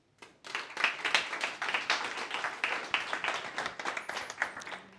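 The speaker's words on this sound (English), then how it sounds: "please give him a round of applause" An audience at a casual after-work UX meetup claps, a dense burst of applause that starts abruptly and holds steady for about five seconds, close and moderately loud, with no speech over it.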